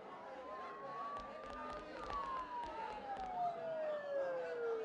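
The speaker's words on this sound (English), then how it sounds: "Don't those sirens sound really close?" Distant emergency sirens in the Persona 4 game, long tones that slowly rise and fall, faint under crowd murmur and scattered clatter, with a voice speaking briefly.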